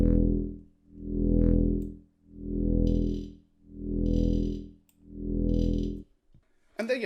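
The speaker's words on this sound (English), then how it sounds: "And to top it off, just a little bit of distortion," Pulsing jump-up synth bass made in Logic Pro X with a sine shaper adding drive, swelling and fading in five slow, heavy wobbles before cutting off.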